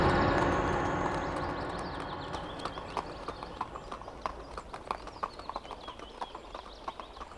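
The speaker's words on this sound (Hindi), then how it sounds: "ये दूर जाते हुए घोड़े के टापों की ध्वनि।" Horse hooves gallop away as a TV serial sound effect, a steady clip-clop beat that starts loud and fades into the distance over several seconds, with no voices.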